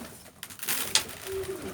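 Pigeons coo nearby in a soft, low, throaty way, with light rustling and a brief sharper click mixed in. There is no talking.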